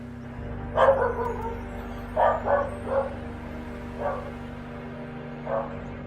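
A corgi barks behind a closed office door, giving several muffled, moderately distant woofs spaced irregularly over a steady low electrical hum.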